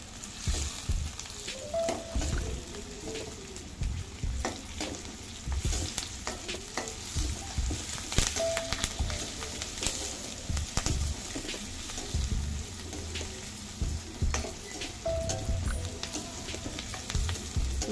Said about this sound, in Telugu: అది పచ్చిమిరపకాయ, కరివేపాకు, ఇది బాగా దీంట్లో వేగనివ్వాలి